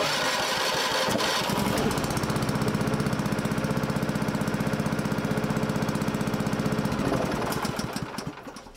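The engine of a farm planter runs steadily and loudly up close, a dense rumbling drone with a rapid throbbing pulse that holds for several seconds, then tapers off near the end with no talking.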